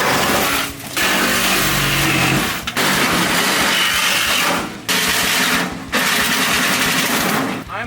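A Sawzall reciprocating saw cuts through a rusty truck floor pan in loud, rapid buzzing bursts, stopping briefly between cuts.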